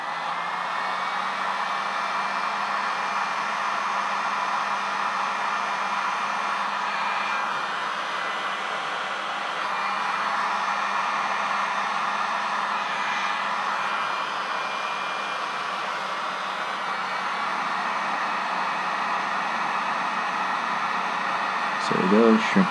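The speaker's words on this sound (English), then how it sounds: "You can use a blow dryer also, it's fine." A blow dryer heats shrink wrap over wiring connections, giving a continuous, even whooshing hiss close by that lasts throughout, with a brief clatter at the very end.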